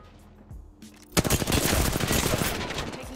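Gunfire in the video game Apex Legends erupts after a quiet second as a sudden burst of rapid shots, then continues as dense automatic fire to the end.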